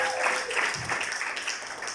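Guests applauding during a civil wedding ceremony before a civil registrar, steady clapping close by with a voice briefly over it.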